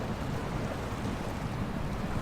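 Truck in SnowRunner ploughing through river water, a continuous low rumbling wash of churning water and engine drone, steady and fairly faint with no voices.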